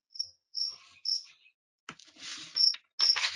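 Cricket chirping in repeated short high-pitched bursts, several evenly spaced trills heard close and fairly loud, with a brief rustle partway through and no speech.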